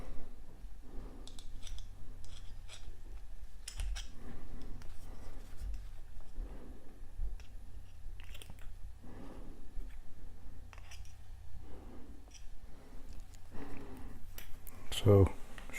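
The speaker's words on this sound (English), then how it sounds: "And then just trim a bit to the top." Small scissors snipping cotton wick for a Boreas v2 vape atomiser, a series of faint soft clicks and snips spread through the stretch, close but quiet, with a few light handling clatters.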